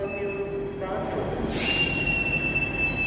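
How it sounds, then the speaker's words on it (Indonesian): A long-distance train pulls into Jatinegara station, its wheels giving off a high, sustained metallic squeal that rises sharply partway through over a steady rumble of rolling stock, close and loud. "Ada kereta api jarak jauh yang masuk stasiun Jatinegara."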